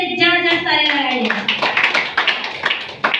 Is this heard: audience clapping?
yes